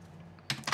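A few quick keystrokes clack on a computer keyboard close to the microphone, a short burst of sharp taps after a near-silent moment.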